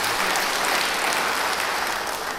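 A church congregation applauds steadily during a sermon, a dense wash of many hands clapping at moderate volume with no voices on top.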